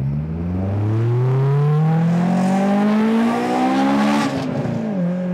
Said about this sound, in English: That is quite a dramatic exhaust